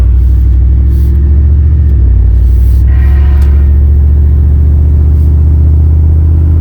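A Chevrolet Silverado single cab pickup fitted with aftermarket headers pulls hard, its engine rumbling deep and loud up close as it accelerates, with a steady heavy drone and no talking.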